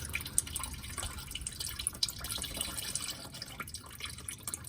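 Engine oil drains from an Acura TL into a catch pan, giving a steady close trickle with a spattering, dripping texture throughout and no talking.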